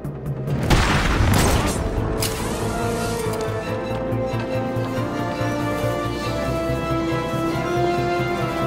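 In the Batman: Arkham City video game, a grenade goes off with a loud, sudden boom that rolls into a dense, rumbling roar and lingers for several seconds.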